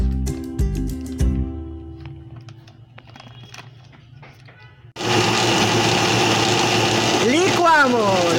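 A few clicks and knocks, then a blender mixing cream cheese suddenly whirs to life at full power, loud and steady, its pitch shifting briefly near the end.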